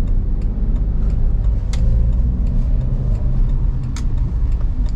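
A car engine rumbles steadily and fairly loud as a manual car pulls away from a full stop in first gear, a low continuous drone with no talk over it.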